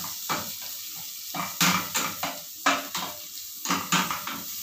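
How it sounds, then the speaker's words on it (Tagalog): Shrimp being sautéed in a pan for Filipino shrimp caldereta, with a sizzle underneath and repeated clinks and scrapes of a utensil against the pan at an irregular rhythm, close by. "i-gisa ang ating hipon"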